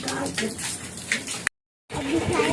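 An aquarium plant is rinsed by hand in water, giving close splashing and sloshing. The washing breaks off briefly, then resumes, with a voice speaking over part of it.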